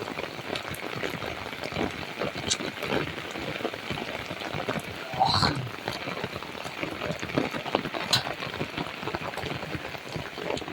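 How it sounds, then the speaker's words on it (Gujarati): Heavy rain drums steadily on surfaces nearby, a dense crackling roar that stays constant, with a brief louder splash or knock midway. "કેવો વરસાદ મિત્રો જોવો તમે"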